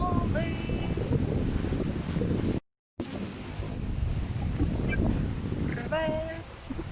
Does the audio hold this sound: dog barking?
no